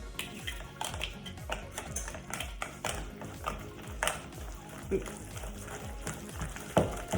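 A fork stirs banana muffin batter in a bowl, giving repeated scraping and clinking strokes against the dish at close range, steady and rhythmic throughout.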